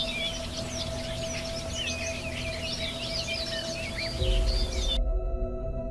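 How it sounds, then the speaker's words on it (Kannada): Many small birds chirp and twitter continuously over a low steady hum, ending abruptly. "ಆಕಾಶದಲ್ಲಿ ಹಾರುವ ಹಕ್ಕಿಗಳು"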